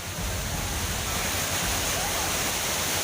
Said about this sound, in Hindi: धाम के अंदर झरना बहता दिखा, हर तरफ सिर्फ पानी ही पानी नजर आने लगा।